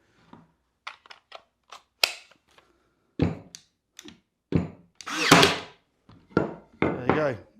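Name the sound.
cordless nail gun firing on a Makita battery adapter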